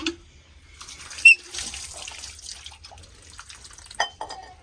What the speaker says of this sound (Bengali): টিউবওয়েলে পানি খাবো এখন আমি